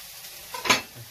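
Diced mushrooms hit a hot pan with a brief sizzling hiss that swells and fades within a second, close and moderately loud over quiet kitchen background.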